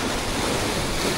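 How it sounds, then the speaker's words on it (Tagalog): A dense, continuous roar of strong surf crashing close by on a rocky shore, loud and unbroken, with wind buffeting the microphone. "malakas na yung alon na naman, oh."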